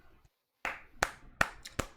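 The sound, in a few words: hands clapping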